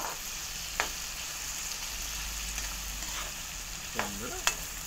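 Squid fries in a small pan with a steady, close sizzle and crackle, and a few sharp pops and stirring scrapes break through the constant hiss.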